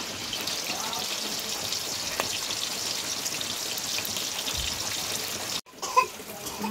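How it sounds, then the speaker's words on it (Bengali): Boal fish frying in hot oil under a lid gives a steady, dense sizzle with crackling spatters that runs throughout, dips briefly near the end, then resumes. "মাছ কোনোদিন কেউ চাপা দিয়ে ভাজে? আমি ভাজছি"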